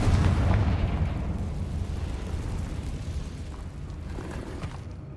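Confringo explosion spell in the Hogwarts Legacy video game, a deep rumbling blast that starts loud and fades into a long, noisy roar of debris and fire.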